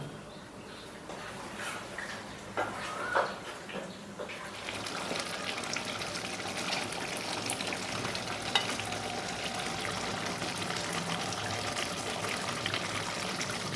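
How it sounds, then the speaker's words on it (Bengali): Chicken pieces sautéing in a pan with spices for chicken rezala give off a steady, close sizzle, with a few scraping stirs early on before the frying settles into a continuous hiss. No one speaks. "চিকেনটা চার পাঁচ মিনিট কষিয়ে নিচ্ছি"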